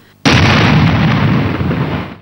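A bridge explosion erupts after a brief quiet moment, a sudden loud blast followed by a sustained roaring rumble of debris and reverberation that slowly fades.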